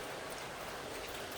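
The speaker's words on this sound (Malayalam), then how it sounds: "നല്ല മഴയാണ്" Heavy, steady rain pouring without a break on the pilgrim route toward Sabarimala near Marakkoottam, a dense, even hiss filling the whole moment with no voices.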